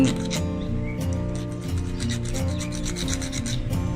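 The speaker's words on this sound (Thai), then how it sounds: "ขูดนะครับ ตรงนี้ให้ ให้ถึงเนื้อนะครับ เพราะว่าไม่งั้นจะบัตรกรีไม่ติดนะครับ" A wire end is scraped bare before soldering, giving a close, continuous rasping scrape with short repeated strokes, while someone talks quietly underneath.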